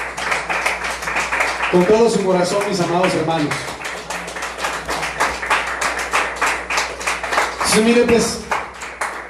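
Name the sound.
congregation clapping hands as an offering to the Lord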